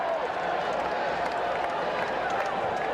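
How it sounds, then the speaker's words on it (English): A baseball stadium crowd at the 1986 World Series, Game 3 between the Boston Red Sox and New York Mets, roars in a steady, dense wash of cheering and voices throughout, with no gaps. "Crowd coming alive"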